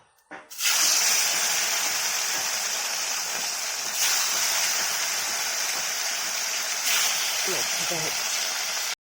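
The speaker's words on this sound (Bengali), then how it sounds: "তেল গরম হয়ে গিয়েছে, এবার মাছগুলো ছাড়বো।" Whole rohu fish frying in hot oil in a home kitchen, a loud steady hiss and spatter that swells as pieces go in around the start and again later, continuous throughout.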